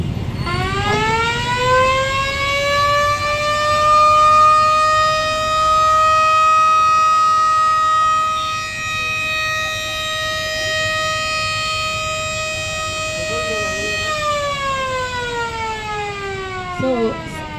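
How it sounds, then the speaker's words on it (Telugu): A loud, steady siren wails during a mock drill with a long rising tone, holds a sustained pitch, then drops near the end. "ఇలాంటి సైరన్ ఏదైనా మీరు విన్న వెంటనే"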